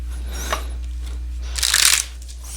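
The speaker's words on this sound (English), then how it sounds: "Let me give them another shuffle real quick." Oracle cards are shuffled by hand in two short bursts, a faint brief riffle near the start and a louder, crisp flurry of rapid papery flicks lasting about half a second, close and alone over quiet room tone.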